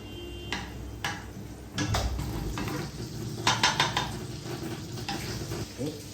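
Butter sizzles softly in a heated frying pan, with a faint hiss under sharp clinks and scrapes of a utensil against the pan.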